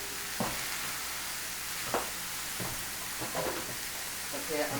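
Chopped onion and diced tomato sizzling in a pot, a steady close hiss of frying with a few faint clicks and stirring sounds, while someone talks over it.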